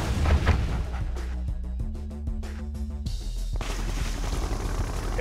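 Artillery fire in Red Alert 2: Yuri's Revenge, a dense run of booming shots and bursts over a game soundtrack, with steady blasts throughout and no talk.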